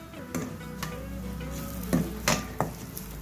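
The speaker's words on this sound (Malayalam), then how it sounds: "ഇനി നമുക്ക് അടപ്പ് മാറ്റിയിട്ട് ഒന്നുകൂടി ഒന്ന് ഇളക്കി കൊടുക്കണം." Chicken being stirred in a pan after the lid comes off, with a steady sizzle underneath and a few sharp spoon scrapes and clinks against the pan, close and moderately loud.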